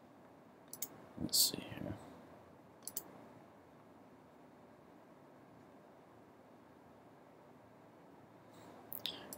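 Computer mouse clicks during software setup, a few sharp isolated clicks spread apart with quiet between them, and a person speaks briefly.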